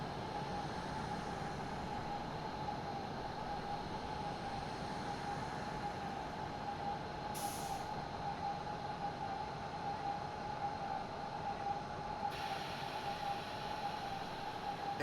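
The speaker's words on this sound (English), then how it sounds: "brake as I bring the train into Reichenschwand" A regional train on the Pegnitztalbahn line braking into Reichenschwand station, heard from the cab as a steady rumbling rail roar with a sustained tonal whine and brief high hisses of brake air.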